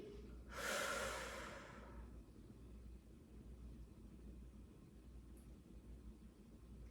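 One loud, slow exhale of breath during a seated chair fitness stretch, rising and fading over about a second and a half, then quiet room tone.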